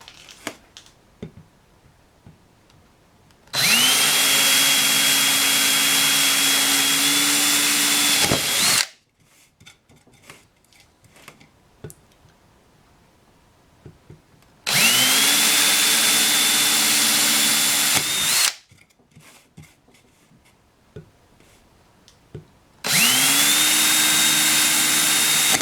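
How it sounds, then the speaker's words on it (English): A power drill bores holes into the groove of a 3D sphere build, running in three loud, steady bursts of high whine separated by quiet pauses, alone and close. "I'm going to drill 3 or 4 holes in this groove between where the pixels go and the ridge"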